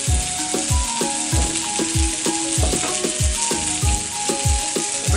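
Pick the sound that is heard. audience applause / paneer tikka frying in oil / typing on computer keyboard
paneer tikka frying in oil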